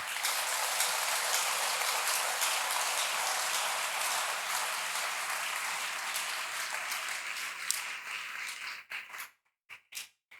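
A church congregation claps steadily for a sermon, a dense, even patter of many hands that holds for about eight seconds, then thins into a few scattered claps before fading out.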